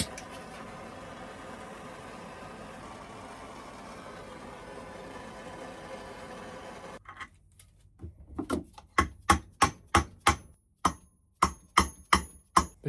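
A heated part is forced onto the supercharger of a BMW E36 during a Hydemotorworks Harbinger Black kit install. Steady hiss gives way to roughly ten sharp, loud knocks in quickening succession, close by.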